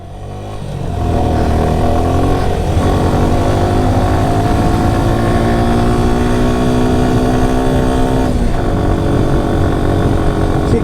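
Motorcycle on a bike tour to Sajek Valley, engine rising from idle into a loud, sustained run with steady harmonic drone and a brief dip as it shifts gear, no talking.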